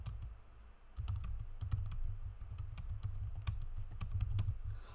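Rapid clicky button presses of data entry on a calculator keypad, a quick irregular patter of close taps with no voices.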